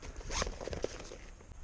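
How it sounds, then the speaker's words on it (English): Zipper on an ATV storage bag of a 2020 Suzuki KingQuad 750 pulled open, a quiet short ripping burst with small ticks, close by. "Let's unzip the other side."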